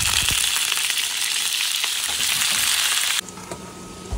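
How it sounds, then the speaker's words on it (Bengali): Small cut pieces of frozen kebab fry in a pan of shallow oil, giving a loud, steady sizzle with faint stirring scrapes. The sizzle thins abruptly near the end. "কাবাব কেটে রেখেছি, ছোটো ছোটো করে নিয়েছি কেটে। এখানে ফ্রাই করে নেব।"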